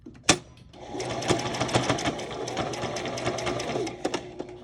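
A sewing machine stitches white-threaded lace onto a paper craft page, running in a steady continuous whir after a sharp click, with a few small clicks near the end.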